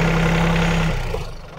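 A tractor engine idles close by, a steady low drone with a sustained hum that drops away partway through and fades toward the end.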